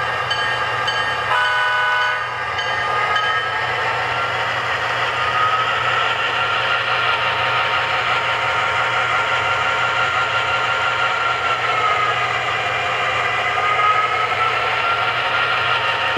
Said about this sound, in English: The motor prime mover sound is much more smoothing and you know, soft.